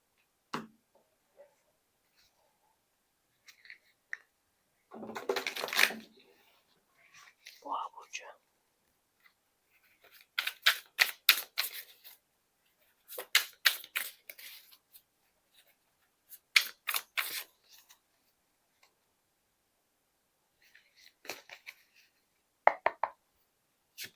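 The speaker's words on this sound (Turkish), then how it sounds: "Şimdi kehanet destelerinden kartlar seçelim." Oracle card decks are shuffled and cards drawn: quick, crisp riffling bursts of card flutter come in several short runs with soft slaps and pauses between, close and quiet.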